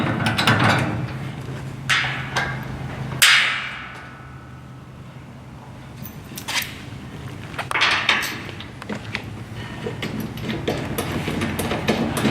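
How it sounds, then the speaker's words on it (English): A ratchet tightening the four mounting bolts of a Revolution ST/PS tower, heard as bursts of rapid metallic clicking at close range, with a few sharper clanks between the strokes and no speech. "Put our 4 bolts in and we'll tighten them up."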